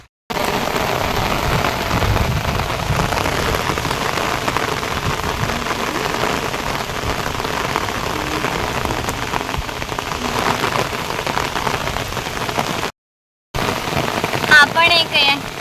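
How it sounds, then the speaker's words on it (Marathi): Heavy monsoon rain pours steadily and loudly over a village and its farm fields, a dense continuous hiss that breaks off briefly near the end and then resumes, with a voice heard faintly at the close. "पाऊस पडतोय मस्त."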